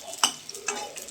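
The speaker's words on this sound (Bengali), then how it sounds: "দেখো বড়া ভাজা হচ্ছে।" Vada fritters sizzling in hot oil in a pan, with a few sharp clinks of a spoon or spatula stirring against the pan over a steady frying hiss, close and fairly quiet.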